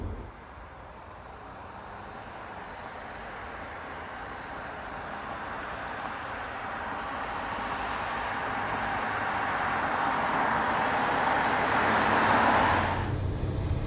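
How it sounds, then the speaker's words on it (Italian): Car on a test drive along the Trieste coast road on a dull autumn day, a steady engine and road rumble heard from inside that slowly swells louder before cutting off abruptly, no talking. "sto provando comunque una macchina che vedrete in una delle prossime puntate"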